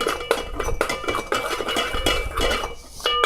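Repeated scraping and clinking of a rice cooker spatula against the metal rice cooker pot, close and busy, with short irregular strokes and no talking.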